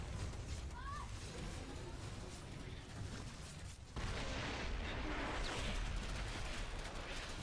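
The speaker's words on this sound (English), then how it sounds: "There goes the pulse cannon." Explosions in StarCraft 2 as a pulse cannon is destroyed: dense, loud, continuous battle rumble and crackle that swells sharply about halfway through and stays heavy to the end.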